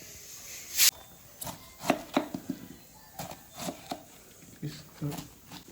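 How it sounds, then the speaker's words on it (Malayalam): An aunt chops food with a knife on a board while preparing lemon and biryani at home, the blade striking in a string of irregular, crisp knocks close by. "അമ്മായി മുറിക്കുകയാണ്."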